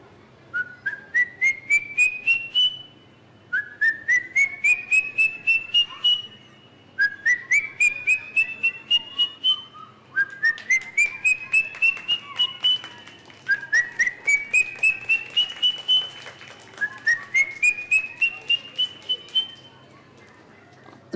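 A person imitates a bird call with a lip-vibrated whistle, producing six repeated phrases of rapid trilled notes that rise in pitch, each burst separated by short pauses, clear and close.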